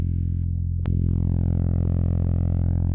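Eerie processed space recording of star KIC 122682200, a steady droning hum of stacked low tones with a sharp click near the start, then a wavering, slowly shifting upper whine, continuous and uneasy throughout.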